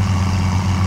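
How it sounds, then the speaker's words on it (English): Tractor engine in the video game Farming Simulator 2017, a steady, loud low-pitched hum with a strong constant drone, running without pause and alone, no voices. "I like the tractor sounds, they're pretty nice."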